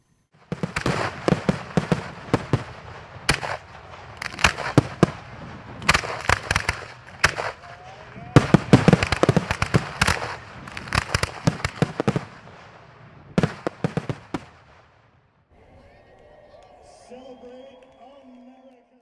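Rapid bursts of Fourth of July display fireworks crack and boom in dense volleys for about fifteen seconds, then a quieter stretch with a faint whistling tone.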